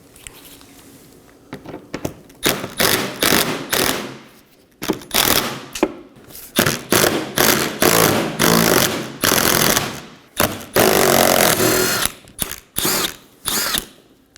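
A power tool removing 10mm screws from under the front bumper of a Nissan Maxima, loud rattling bursts in repeated on-off runs with short pauses between, close up and without talk.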